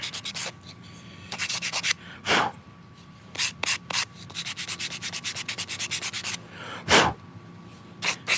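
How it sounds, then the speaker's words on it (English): Wood is sanded by hand with 120 grit sandpaper while shaping a miniature chair, a close, steady rhythm of rasping strokes broken by short pauses. "this is the 120 grit too, so once I get the shape I want, I'm going to go back over with that 400 grit"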